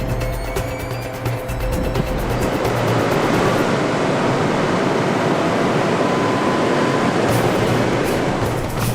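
Heavy surf from Typhoon Bolaven pounds the Busan coast, waves surging over the seawall toward the coastal road; a dense, continuous roar of churning water, loud and close, with no voices.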